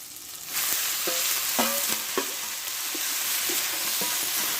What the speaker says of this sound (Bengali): দিয়ে আমার সঙ্গে ভালোভাবে কষে নেব